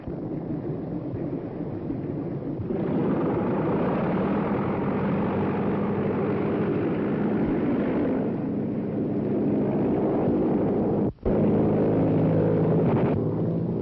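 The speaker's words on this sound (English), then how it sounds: "Larry Baker's on the plane" Propeller airplane flying in a 1932 action serial, a steady loud engine drone with a rough whirring texture that holds throughout, briefly cut once near the end, with no talking.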